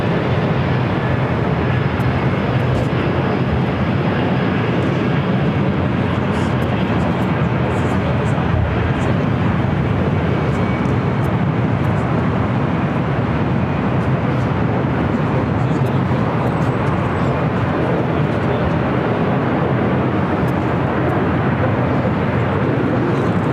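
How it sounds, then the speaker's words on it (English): A Boeing 777-300ER airliner arriving at LAX from Guangzhou gives a steady, loud, broadband jet roar that holds through the whole stretch with no pause. "777-300ER coming up from Guangzhou"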